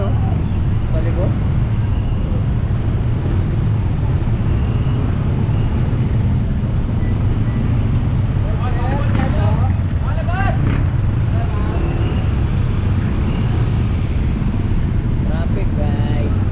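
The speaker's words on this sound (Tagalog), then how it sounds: "Traffic, guys." Dense road traffic noise during a jam, a steady low rumble of engines and passing vehicles that continues throughout, with occasional voices speaking over it.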